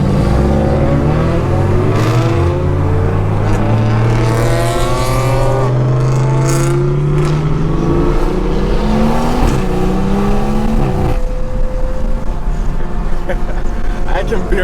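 BMW 340i with a big turbo and a fully built Supra race cars accelerating hard together, engines loud and close with rising pitch sweeps and gear changes, heavy wind buffeting through an open window, and someone talking over them.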